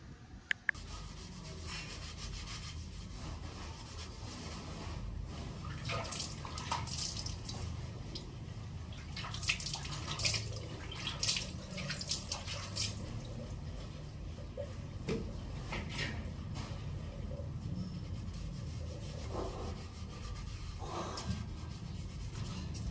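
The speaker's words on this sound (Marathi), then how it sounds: "जरा स्वच्छ धुवून ते घेऊया पहिला" An object, apparently a piece of wood, is scrubbed and washed with water outdoors on a farm, a continuous soft rubbing and dripping splash that runs steadily and quietly without talk.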